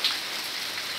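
November rain falls in Alagoinha, Pernambuco, in 2023, a steady, close hiss of raindrops on surfaces with no break and no voices.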